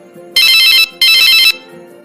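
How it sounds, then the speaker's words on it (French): A phone rings as a call is placed in an animated story, two loud electronic ring bursts close together, each about half a second long with a brief gap between, alone over a faint background. "prend son téléphone et appelle son ami"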